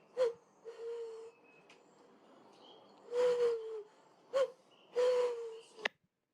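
A woman imitates an owl, giving several breathy, hollow hoots in irregular bursts with short pauses between, close and fairly clear, ending abruptly.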